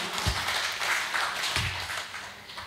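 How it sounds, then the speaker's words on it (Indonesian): Audience clapping along at a Catholic faith and testimony gathering, a dense steady wash of hands throughout with a few heavier thuds, no talk over it. "Tepuk tangan Yesus yang jamah."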